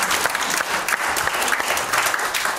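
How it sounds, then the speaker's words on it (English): A congregation claps together steadily, a dense, lively patter of many hands filling the room without pause. "Give the Lord a hand clap this morning."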